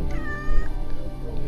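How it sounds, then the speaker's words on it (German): A cat meows loudly right next to the microphone, one drawn-out, wavering call over a low background rumble, with no talking. "Katze, nicht ans Mikrofon gehen."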